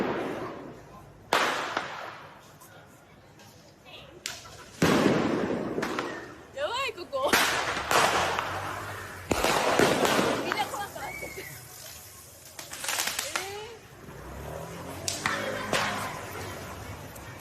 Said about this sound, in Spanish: están ahí tirando petardos.